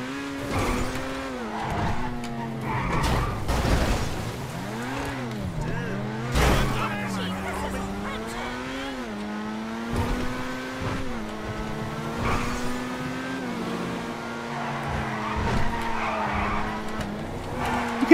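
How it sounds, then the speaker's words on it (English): Car drifting in GTA 5 Online stunt racing, with continuous loud tire squeal and skidding over a revving engine that rises and falls through several long slides, under occasional talk. "You can actually drift this pretty well."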